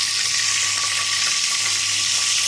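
Mutton seekh kebab frying in hot oil in a saucepan, a steady, close, continuous sizzle with a faint hum underneath and no talking.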